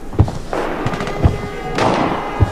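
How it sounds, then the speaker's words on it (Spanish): Sniper gunfire in the shooter game Arena Breakout: three distant, muffled thuds spaced about a second apart over a low background hum. "Le está disparando a alguien, ¿no?"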